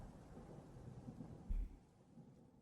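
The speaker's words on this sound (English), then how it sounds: "Thunderclapping." A thunder clap comes as a sudden low rumbling burst midway through a quiet stretch of steady storm-like hiss, then fades back into the low background.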